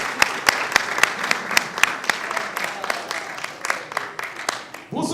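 A live crowd at a Fête de la Musique concert breaks into applause for a singer, sharp claps repeating evenly in a steady burst that fades near the end.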